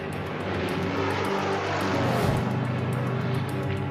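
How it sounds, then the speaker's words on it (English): WWII Japanese dive bombers, fighters and torpedo planes sweeping over Hawaii, a steady roaring drone of piston aircraft engines that swells briefly as one passes near. "the first of over 350 Japanese dive bombers, fighters, and torpedo planes sweep out of the Hawaiian sky"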